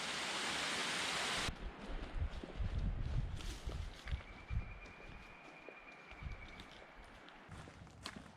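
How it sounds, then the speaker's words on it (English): A rockside waterfall rushes loudly beneath a footbridge at Grandfather Mountain State Park, North Carolina, a hissing roar that cuts off abruptly, followed by soft footsteps over faint moving water. "Here we are on a footbridge crossing over this nice rockside waterfall"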